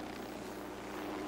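A recon drone flying in Ghost Recon Wildlands gives a brief, steady whirring buzz, moderately faint, with no voices over it.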